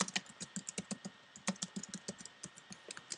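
Text being typed on a computer keyboard, a quick run of close, crisp key clicks in an irregular rhythm, heard alone and fairly quiet.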